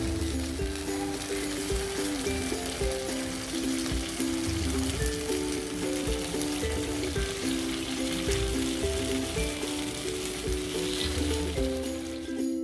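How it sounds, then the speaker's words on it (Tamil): Paniyaram batter frying in hot oil, a dense continuous crackling sizzle like light rain, fairly faint and unbroken, with a low steady hum underneath. "இப்போ நல்லா எண்ணெய் காஞ்சோன்னா பணியாரம் ஊற்றிக்கிறோம்."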